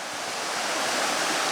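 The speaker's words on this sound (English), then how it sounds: "Now the water will make a little less noise" Stream water tumbling over rocks, a dense, steady roar of rushing flow heard close up and loud, with no voices over it.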